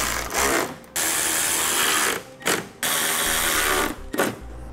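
Ratchet clicking while the top bolts are tightened on a Derale Series 8000 plate-fin transmission cooler kit, in several long bursts of rapid clicks separated by short pauses, close and loud, with no talking.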